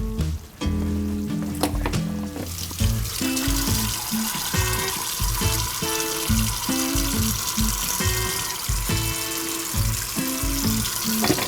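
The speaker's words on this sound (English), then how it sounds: "I need to drain this and rinse it with cold water" Cold tap water pours hard into a sink over par-cooked asparagus being drained and rinsed, a constant splashing hiss with clattering knocks and shifting as the vegetables are handled, close by and with no talking.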